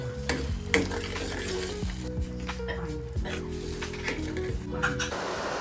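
Spices, including red chilli powder, turmeric and asafoetida, sizzle in a hot pan with a continuous crackling hiss, broken by a few clinks and scraping stirs, close up, with a low hum underneath.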